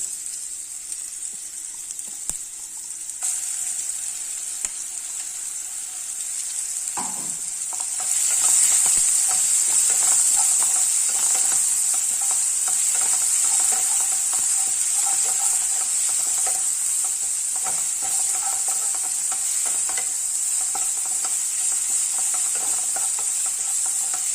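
Finely chopped onions sauté in a pan for chow chow kuzhambu, a quiet hiss that jumps into a loud, continuous sizzle, with occasional soft stirring clinks underneath.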